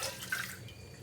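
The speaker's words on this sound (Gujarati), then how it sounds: "તો હવે આપણે આ પાણીને લઈને ફેંકી દઈશું." Water used for washing mangoes is tossed out of a container. It makes a brief, soft splash and trickle, close by and faint, with no talking.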